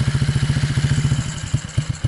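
A pit bike's single-cylinder engine runs with a fast, steady low putter of pulses that loosens and slows into uneven thuds toward the end, close and fairly loud with no talk.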